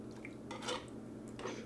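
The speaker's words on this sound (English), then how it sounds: "we're going to just simmer that a little bit, stir that up together" A utensil stirs a creamy sauce with chicken and mushrooms in a pan, with a few soft scraping, wet clinking strokes over a steady low kitchen hum, fairly quiet and close, with no talking.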